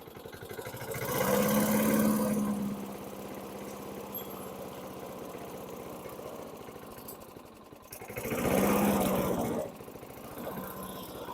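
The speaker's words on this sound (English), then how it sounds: "Such a big fluctuation in RPMs." A 2006 Troy-Bilt self-propelled lawn mower engine runs unevenly, its steady drone twice surging louder for a couple of seconds and then falling back.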